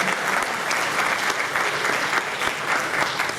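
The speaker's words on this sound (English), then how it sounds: "Let's give them a big round of applause." A ballroom crowd at a hall of fame induction ceremony claps steadily, giving a round of applause to thank the caterers. The applause is dense, even and continuous throughout.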